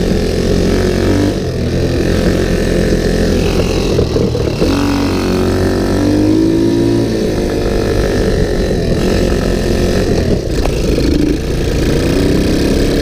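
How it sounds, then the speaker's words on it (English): A small ATV engine, once seized, drones and revs steadily throughout, winding up and easing back as it runs through the gears, close and loud with no talk. "Nice thing about these little sewing machine engines, they wind up nice."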